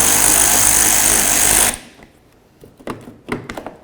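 A power tool runs loud and steady, backing out a bumper screw on a 2006-12 Toyota RAV4, then cuts off abruptly. A few faint clicks and knocks from handling follow.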